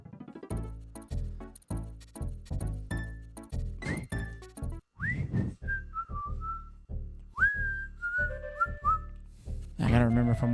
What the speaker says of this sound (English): I gotta remember if I'm whistling into the mic to go in instead of out